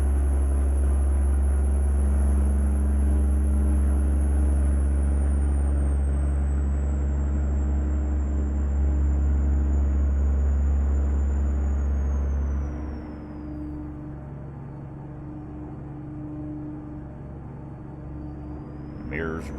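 A truck engine at 1300 rpm cruising in American Truck Simulator, a steady low drone with a high whine that fades as the engine note drops and softens partway through, with no talk.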